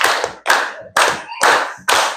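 A class group claps together in a steady rhythm, five sharp bursts of claps spaced about half a second apart, loud and close, with no talking.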